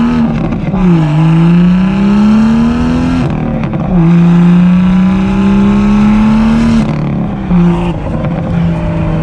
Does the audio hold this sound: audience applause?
no